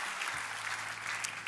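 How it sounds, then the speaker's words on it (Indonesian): Enthusiastic congregation applause for Jesus during a church service, a steady, dense wash of clapping throughout, with no voices above it. "Kita beri tepuk tangan mari meriah buat Yesus Tuhan kita."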